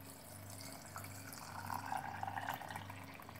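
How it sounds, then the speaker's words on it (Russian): Sauerkraut brine made for fermenting cabbage is poured into glass jars in a kitchen, giving a faint, continuous liquid trickle with a few small splashes midway. "Выливаем рассол в эти баночки."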